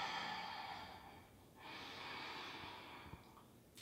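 Slow, soft breaths during a yoga warm-up for shoulder strength, a long airy inhale or exhale followed by another, close and quiet with no talking.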